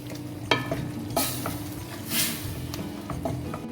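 Spiced minced meat for Pakistani/Indian masala qeema sizzles steadily in a pan while a spoon scrapes and stirs it, giving occasional sharper knocks and clatters over a constant crackling hiss, close up and with no voices.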